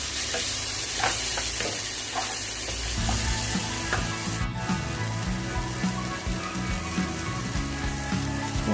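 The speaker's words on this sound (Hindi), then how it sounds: "मसाला फ्राई हो जाए अच्छे से" Masala of ginger garlic paste, red chili powder and coriander powder fries and is stirred in a pan for samosa chaat, a loud steady sizzle with scraping stirs.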